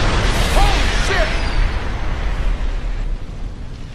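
A big explosion in the video game Homefront: a loud, rumbling blast that fills the opening and slowly decays over four seconds, with faint shouts and whistling debris sounds layered on top.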